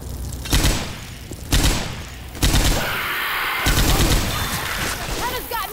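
Frag rounds fire in the Left 4 Dead 2 zombie shooter with four loud, booming shots spaced about a second apart, each one followed by chaotic sustained noise, while voices call out briefly near the end.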